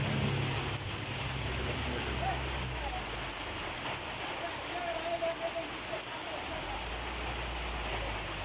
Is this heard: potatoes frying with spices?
no